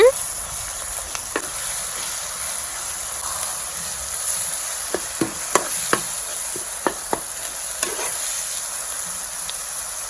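Ginger-garlic paste, curry leaves and coriander stirred in a frying pan for chicken curry, giving a steady close sizzle with scattered sharp spoon scrapes against the pan and no talking.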